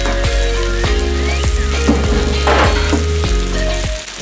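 Bread toasts in a hot pan for a pulled pork Philly cheesesteak, with a loud, close, continuous sizzle and crackle of frying and no talking.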